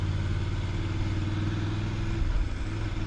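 A Voge DSX 900 motorcycle engine pulling along slowly in second gear while the throttle is eased on and off, giving a close, loud, pulsing mid-pitched engine note with a slight lurch in the rhythm.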